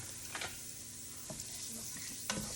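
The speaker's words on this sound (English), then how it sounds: "Stir it all around." Chopped fresh fennel stirred around a hot pan for homemade ragu, giving a soft steady sizzle with a few faint scrapes of the spoon, quiet and close.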